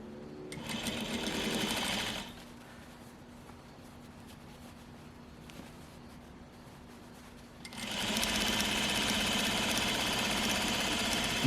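A sewing machine stitches over a pressed-open side seam in two steady, close motor bursts, one short and one longer, with a quieter stretch between them and no talk.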